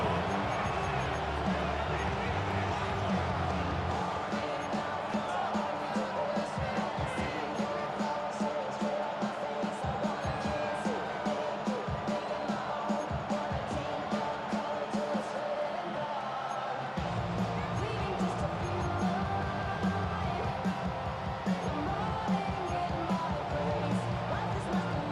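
Steady roar of a stadium crowd at an American football game late in a close finish, a dense continuous swell of many voices with a brief dip partway through before rising again.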